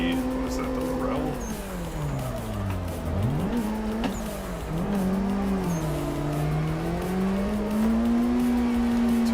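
A drifting car in Assetto Corsa during a circuit drift session: the engine revs rise and fall while the tires squeal steadily and loudly across several seconds, with a person talking over the sound.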